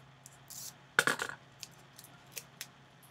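Scissors snip through folded paper for a snowflake, a handful of close, crisp cuts with one sharper burst of snipping near the start, each short and separate, faint overall with no talking.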